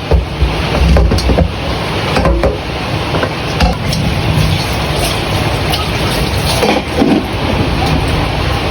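A steady, dense roar of heavy rain fills the whole stretch, loud and continuous, with occasional louder patters and no voices.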